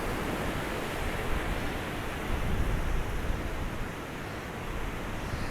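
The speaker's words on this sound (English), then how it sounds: "this is where it gets noisy again, when it all starts breaking against the steps" Sea water surges and breaks steadily against the steps of Blackpool's Central Pier, a loud continuous wash of surf with slight swells in intensity.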